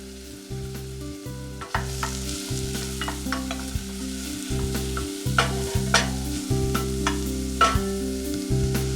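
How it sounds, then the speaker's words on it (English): Onions and garlic sauté in olive oil in a saucepan for a vegetable soup, a steady close sizzle and frying crackle running throughout, with repeated scraping and stirring knocks of a utensil against the pan and no talking. "Then the next step is to add in the onions and the garlic."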